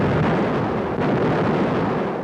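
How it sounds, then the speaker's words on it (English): Long-range artillery shelling Leningrad with high explosives makes a dense, continuous roar of blasts and rumbling detonations, loud and unbroken throughout without clear separate shots. "long-range guns hurled ton after ton of high explosives into the heart of the city"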